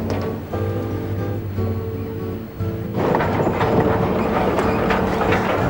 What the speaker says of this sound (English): the clickety-clack of the tracks, the creaking of the cars, and the unmistakable whistle that lets everyone know a train is coming